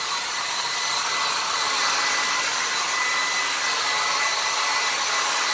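A cheap budget hair dryer, set to high, blows in a loud, steady roar with a constant airy hiss that holds unchanged from start to end.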